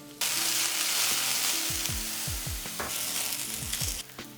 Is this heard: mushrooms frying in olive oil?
yes